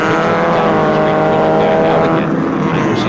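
Race cars at a Mid-Ohio SCCA World Challenge race roar down the straightaway, a loud, continuous engine drone with shifting pitch under a commentator's voice.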